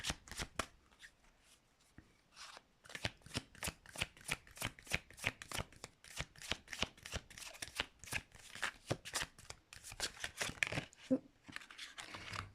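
Rapid riffle of tarot cards being shuffled close by, a crisp run of fluttering flicks repeated several times.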